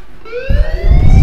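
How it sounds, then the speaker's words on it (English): A fire alarm in the video game Life is Strange sounds as a loud, rising electronic siren tone with layered harmonics, joined by a low rumbling noise partway through the brief burst. "do you hear that fire alarm? That means you should be outside."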